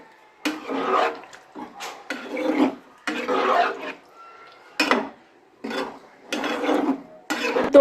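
A spoon scrapes and rubs through chilli chicken gravy in a pan, coming in short bursts of stirring separated by brief pauses, close and fairly loud.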